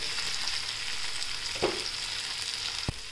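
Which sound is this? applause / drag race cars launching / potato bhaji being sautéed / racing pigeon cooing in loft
potato bhaji being sautéed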